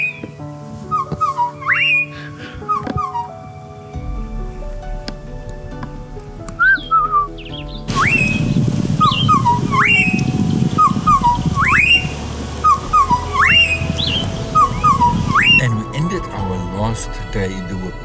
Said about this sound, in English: I'm going to record I think it's fish eagles.